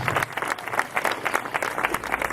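At a school festival welcome presentation, an audience applauds the teachers with steady, crowded clapping that pulses unevenly, moderately distant and with no speech on top.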